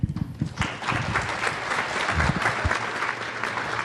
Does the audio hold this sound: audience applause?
yes